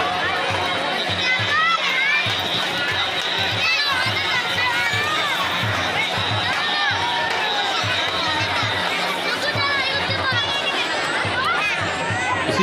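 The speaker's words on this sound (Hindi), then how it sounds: "कितना ज़्यादा भीड़ है यहाँ पे, और भक्तजनों की भीड़ तो बहुत ही ज़्यादा है यहाँ पे" A dense crowd of devotees fills a Durga Puja pandal with constant babble and chatter, many overlapping voices close and far, including children, with steady thudding underneath and no pauses.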